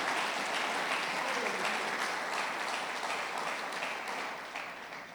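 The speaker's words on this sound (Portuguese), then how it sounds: "Pode aplaudir, é para Jesus." A church congregation applauding for Jesus, a sustained wash of hand claps filling the room at moderate distance, steady then slowly fading toward the end.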